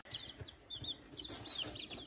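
Backyard homestead chickens cluck and chirp in short soft bursts at a modest distance, a scattered run of small calls over quiet ground with no voices.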